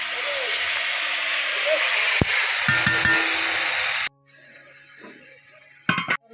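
Cumin and ground spices frying in a pan for a hilsa fish curry, with a loud steady sizzle for about four seconds, then a quieter sizzle and some stirring clatter.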